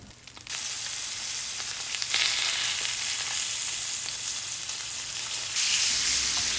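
A salmon fillet sears in a hot pan, a sharp sizzle bursting on at the start and then holding loud and steady with faint crackles, swelling again near the end, no voices.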